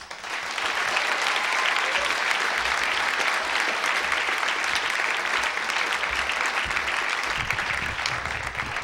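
Comedy club crowd gives a sustained round of applause for stand-up comedian Gerry Owens, dense steady clapping at full strength almost the whole way before easing slightly at the end.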